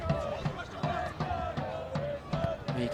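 Home supporters at a North Sunshine Eagles versus Western United football match chant loudly and rhythmically from the stands, a steady sung crowd roar pulsing with regular accented beats and sustained tonal lines.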